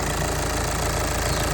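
A 2014 VW Passat TDI diesel engine runs steadily with a dense, continuous clatter and hum, loud and close, with no pauses.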